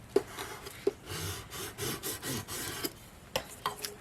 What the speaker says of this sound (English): Let's use our scraper tool.